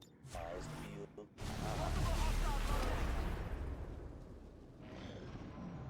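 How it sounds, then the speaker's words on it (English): A heavy explosion in the strategy game XCOM 2 (Long War of the Chosen, Avenger defence mission), booming in after a short gap as a long rumbling roar with crackling debris that slowly fades beneath faint voices. "It's not a standard explosion."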